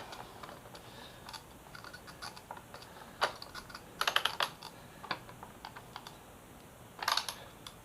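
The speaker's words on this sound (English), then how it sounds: "Now I'm going to put the socket wrench on it. And we're going to tighten it up." A socket wrench tightening the mirror bolt on an MV Agusta F3 motorcycle, sparse quiet metallic ratchet clicks and taps in short irregular bursts, close but faint.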